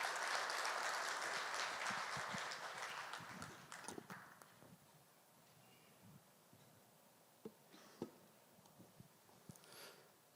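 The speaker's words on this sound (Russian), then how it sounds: "И ваши аплодисменты." Applause at a Dagestan book presentation event, dense clapping for the first four seconds that fades into scattered claps and faint murmuring.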